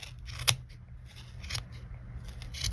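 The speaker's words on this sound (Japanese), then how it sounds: "こっち側も同じようにこの間にハサミを入れて" Scissors snip through the yarn loops of a handmade pompom, a few sharp close cuts spaced apart over a soft, quiet background of rustling.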